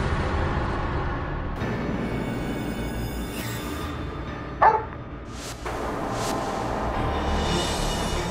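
A dog barks a few times at a distance over a steady background hum, the barks short and fairly faint, with no one speaking.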